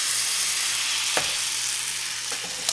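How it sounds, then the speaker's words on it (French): Baghrir batter poured into a hot pan for Moroccan semolina crepes, a loud continuous sizzle with a few sharp crackles and spatters standing out over the hiss. "ce que je vais faire, c'est verser mon mélange"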